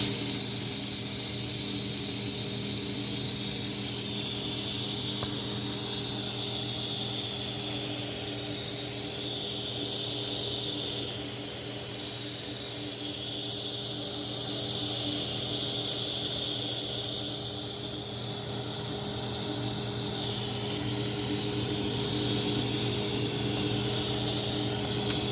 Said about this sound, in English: I'm going to bleed off the pressure a little bit now